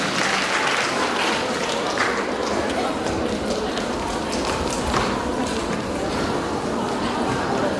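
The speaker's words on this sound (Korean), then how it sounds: "다시 한번 박수 주세요" Students at a high school chapel service for the start of the second semester applaud in a thick, sustained burst of many hands, with a murmur of crowd chatter running beneath the clapping.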